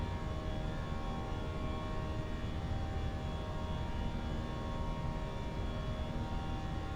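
A320 jet engines at climb power in a flight simulator on a departure from Chicago O'Hare, a steady, loud broadband roar with a faint whine that holds without a break and with no voices.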